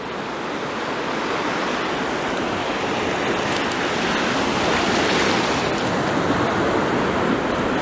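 Sea waves wash onto a shore as the tide comes in, a steady broad rushing surf that stays loud and continuous throughout, with no voices.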